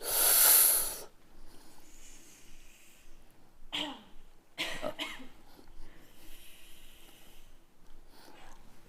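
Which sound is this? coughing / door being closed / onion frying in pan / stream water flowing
coughing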